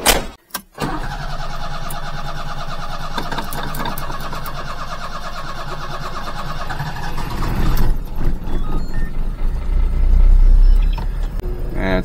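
A micro van's engine cranks and catches after a brief pause, then settles into a steady, close idle, growing rougher and louder toward the end as it loads up.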